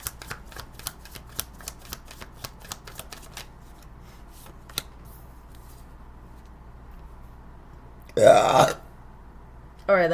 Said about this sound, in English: that was a great burp of confirmation